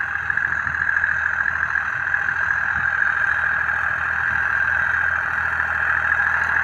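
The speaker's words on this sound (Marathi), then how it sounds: "आणि ट्रॅक्टर हा अनलोड चालतोय बघा" A farm tractor engine runs steadily and unloaded during sowing in a field, a continuous mid-pitched drone held close and even throughout, with no voices.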